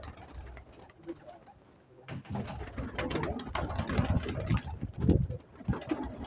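Teddy pigeons coo in a loft in soft, repeated low calls, with faint rustling and occasional knocks around them.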